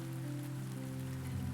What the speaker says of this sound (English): the rain continues its gentle rhythm beyond the walls